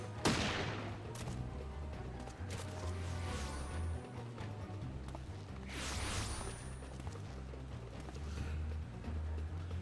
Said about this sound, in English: I love how Sid has a gunblade pistol.